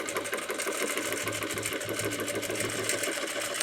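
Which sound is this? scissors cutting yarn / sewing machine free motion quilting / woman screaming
sewing machine free motion quilting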